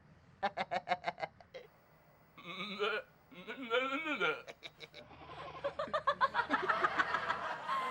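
A goat bleats in a comedy scene, giving a few wavering, nasal calls in the middle, with laughter and chuckling around it.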